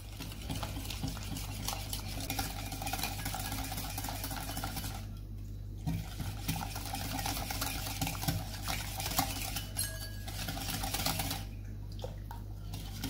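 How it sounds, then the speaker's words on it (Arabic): A spoon stirring pancake batter of flour, egg, sugar and milk by hand in a bowl, steady rapid scraping and clinking that keeps on with brief pauses. "حركوا غير بالقوه ديالكم وكيجي زوين وخفيف من الداخل ديالو"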